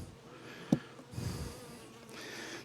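Honeybees at a hive give off a faint, close buzzing with a soft thump partway through, all quiet and brief.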